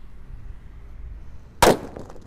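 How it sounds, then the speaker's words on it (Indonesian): A mercon petir firecracker goes off in a single sharp, loud blast after a quiet pause, with a short ringing tail fading away outdoors. "Selanjutnya yang kita nyalakan di sini ada mercon petir. Ini suaranya lebih menggelegar bosku."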